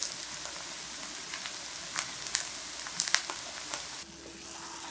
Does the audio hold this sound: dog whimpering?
no